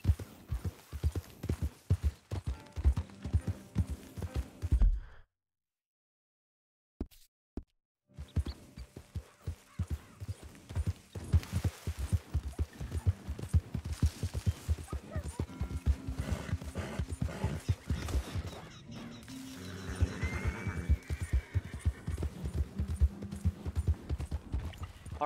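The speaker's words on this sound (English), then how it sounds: "let's try to mount up this horse then, and get to the stables" Steady clip-clop of a Missouri Fox Trotter horse's hooves trotting at a lively pace in Red Dead Redemption 2, with a brief silence partway through and occasional whinnies over a busy game soundscape.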